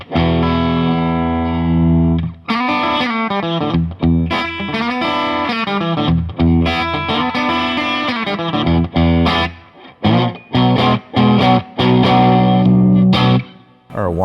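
Electric guitar plays through a Bad Cat Cub 40R tube amp with the gain turned up, giving a crunchy, country-rock tone: sustained chords and riffs, several short pauses, then choppy stabs near the end.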